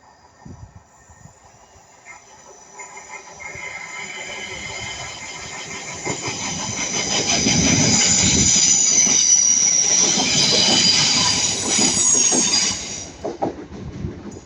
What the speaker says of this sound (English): got a Northern Class 323 passing by this platform this time